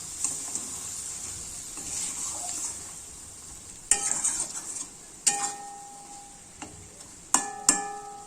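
Water lily stems with a little sugar are stirred in a pan under a faint sizzle. Several sharp metallic clinks of a utensil against the pan ring out, spaced irregularly over the stretch, with no one speaking.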